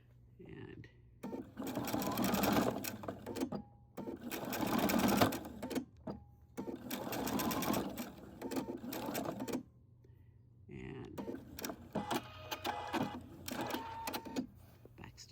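A sewing machine backstitches elastic into bloomers, running in several quick bursts of rapid mechanical stitching separated by short pauses, close and fairly quiet.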